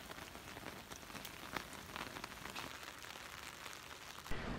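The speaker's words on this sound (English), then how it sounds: "it's literally raining cats and dogs" Steady heavy rain pours down in Slovenia, a dense continuous hiss of drops pattering on surfaces with no voices.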